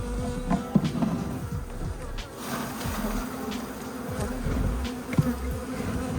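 Honeybees buzz steadily in a dense, close swarm, a continuous droning hum with a few louder passes near the listener.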